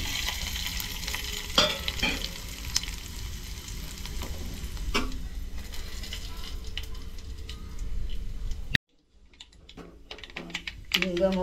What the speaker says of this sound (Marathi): हिंग, मोहरी आता तडतडली आहे चांगली. बघा आवाज येतोय.